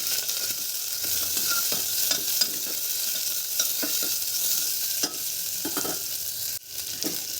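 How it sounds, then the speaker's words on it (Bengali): Chopped onion and green chilli fry in hot oil with cumin for masoor dal with papaya, a constant bright sizzle close up with occasional soft clicks of a spoon stirring in the pan. "এবার কেটে রাখা পেঁয়াজ আর কাঁচা লঙ্কাটা দিয়ে দিলাম, হালকা একটু ভেজে নেব।"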